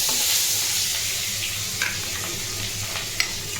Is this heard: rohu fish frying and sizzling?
yes